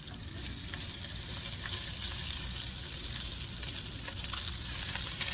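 Pork carnitas meat crackles and sizzles loudly in a hot pan, a dense, steady frying hiss with scattered pops close to the microphone, lasting throughout without speech.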